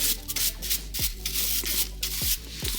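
Continuous abrasive scrubbing of a wire brush on a drill grinding against rusty coilover metal on a 2006-2011 Honda Civic Si, steady and close with brief dips in intensity.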